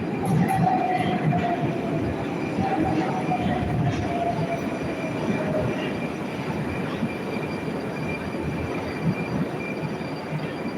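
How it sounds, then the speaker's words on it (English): Moscow metro train rumbling into Sevastopolskaya station, wheels squealing and screeching faintly above a steady heavy roar, with no talking. "I think this is my train."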